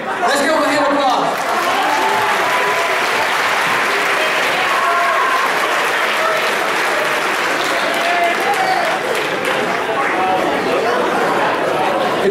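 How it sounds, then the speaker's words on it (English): A crowd applauds a gift card winner at a presentation, steady, loud, dense clapping that runs throughout with some chatter mixed in. "Let's give them a hand of applause."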